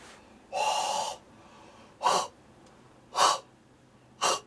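A long, breathy yawn-like exhale close to the mic, then three shorter airy breaths spaced about a second apart in near silence.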